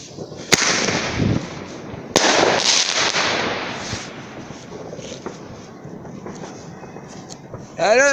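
New Year's Eve fireworks going off outdoors, with sharp individual bangs and crackling bursts followed by a rising whistle near the end, while people talk and react nearby.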